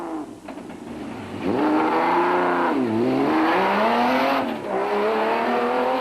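Mud-splattered Zarko Magnum off-road race car with a big Chevy engine revving hard at the Eastern Cape 500 rally, its pitch rising and dipping through repeated loud accelerations close by, with no voices.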